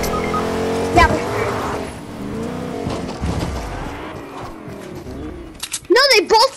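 A car driving in Fortnite, its engine revving and droning near and loud with a squealing burst at the end, while players talk over it.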